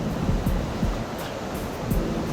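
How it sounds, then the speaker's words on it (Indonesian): Heavy rain pours down outside a Hyundai Santa Fe during an audio installation interview, a dense, steady hiss with a few faint thumps and streaks, loud and continuous with no voices. "mohon maaf ya hujannya agak kencang emang."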